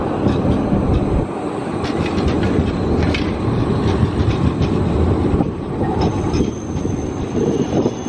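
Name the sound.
new tram passing by Riga Central Market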